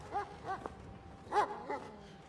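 Dogs bark in a Chernobyl TV drama, several faint, distant woofs and yips spaced across a couple of seconds against a quiet background.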